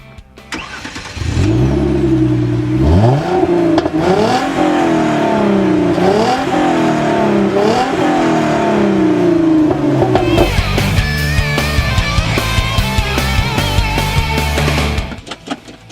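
A 2013 Hyundai Genesis Coupe with a 3.8L V6 and close-ratio six-speed manual accelerates hard from a stop, the engine rising through several gear changes before settling into a steady drone, loud and close with no talk.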